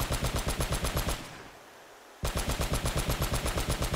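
A mounted gun in Uncharted: Drake's Fortune hammers out rapid, evenly spaced bursts at close range and high volume, breaks off into about a second of near silence, then resumes the same relentless automatic fire.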